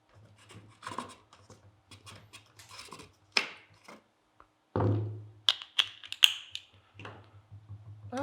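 A wooden balance bike's seat clamp being opened: a series of soft clicks, scrapes and taps on wood and metal, with one heavier thunk midway, all close and fairly quiet.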